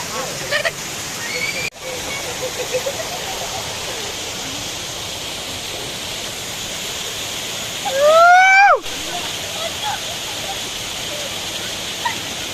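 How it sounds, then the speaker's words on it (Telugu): A forest waterfall in Maredumilli pours down a hillside with a steady, broad rushing roar throughout, while a brief chirping bird call rises over it midway. "వాటర్ ఫాల్స్ ఎట్లా వస్తాయి"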